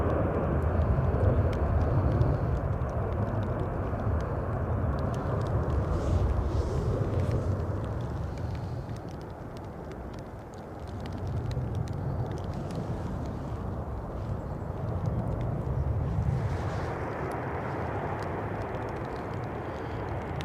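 A Virgin Atlantic airliner passes in stormy weather at Manchester Airport, its engines a loud, broad roar that swells and eases over twenty seconds, mixed with gusty wind noise and no voices.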